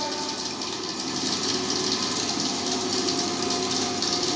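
A DC motor running under a speed control test at around 1100 to 1250 RPM gives a steady, continuous mechanical hum and whine, constant in level, with no talking.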